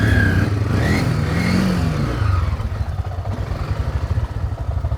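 A motorcycle engine revs up close with rising whines at the start of a race, then settles into a loud, throbbing, pulsing idle.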